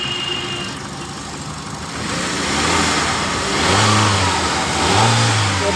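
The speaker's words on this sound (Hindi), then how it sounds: "ये देख सकते हो आप, गाड़ी स्टार्ट है।" A Hyundai i10 petrol car being checked for overheating is started and runs close by. Its engine rises in a couple of revving swells over a steady running hum, with no talk.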